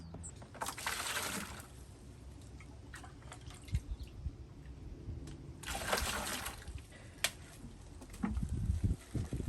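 Dry self-leveling concrete mix pours and splashes into water in a few bursts, with sloshing, dripping and scraping sounds close by.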